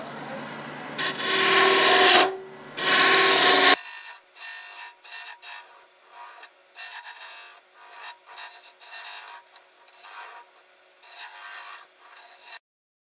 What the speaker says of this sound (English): I'm going to take my huge, huge turning chisel here and just get this down to the dimension and put a little shape on it